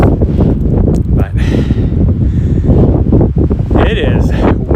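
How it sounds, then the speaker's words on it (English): Strong wind batters the microphone on a mountain summit above Helena, Montana, a loud, continuous roaring buffet with gusts rising and falling, while someone talks over it throughout. "it is windy up here."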